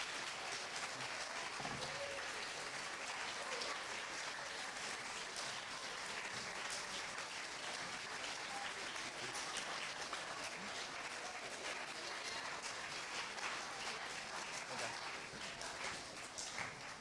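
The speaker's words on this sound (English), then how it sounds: "Now please join us in giving both candidates a warm round of applause" A large audience gives sustained, dense applause for the candidates at a 2012 presidential mock debate. The clapping stays steady and full for the whole stretch, with scattered voices mixed in.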